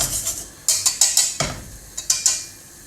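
A flour roux cooks in a pan while a utensil stirs it, giving a close series of short scraping strokes in an uneven rhythm, alone without talk.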